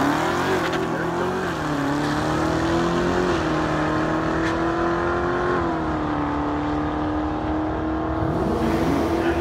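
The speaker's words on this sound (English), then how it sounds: "He's going to be taking on Sean in that 2013 Boss Mustang" A 2015 Dodge Hellcat and a 2013 Ford Boss 302 Mustang run a quarter-mile drag race, their engines roaring steadily and loudly throughout with a continuous droning tone and slight shifts in pitch.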